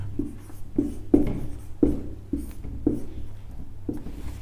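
Pen or chalk strokes writing a Hindi word on a board or page, a series of distinct scratchy marks at an irregular pace, close and fairly loud, with no talk.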